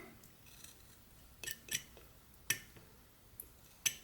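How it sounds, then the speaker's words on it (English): A whittling knife slices into wood up to a stop cut, giving a few quiet, crisp shaving cuts and small clicks spaced irregularly, close and alone. "I cut up to that stop cut from the bottom"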